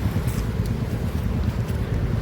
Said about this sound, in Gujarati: આજે જે પવન છે ને ખતરનાક ફૂલ પવન આવે છે આજે